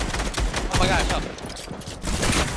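Rapid gunfire in an Apex Legends Arena match, dense bursts of shots rattling close and loud through the whole stretch, with a brief lull before another volley.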